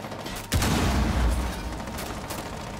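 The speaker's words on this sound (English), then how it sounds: "I hear shooting." Gunfire in the Rainbow Six Siege video game: a sudden loud burst at about half a second, followed by a sustained, dense rumbling barrage that fades slightly, with no talk over it.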